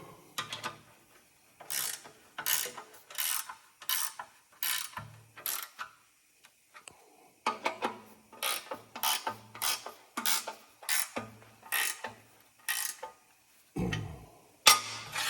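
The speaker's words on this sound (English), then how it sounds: "We will tighten the bolts down." A hand ratchet tightens bolts on auger mounting plates for a deer feeder, clicking in repeated quick bursts of strokes with short pauses between, close and clear with no talking.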